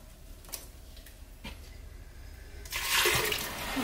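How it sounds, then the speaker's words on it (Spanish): Water pours into a kitchen blender to rinse it, starting with a few faint ticks and clinks before a louder splashing stream begins near the end, close and without any talking. "Vamos a echar un poquito de agua"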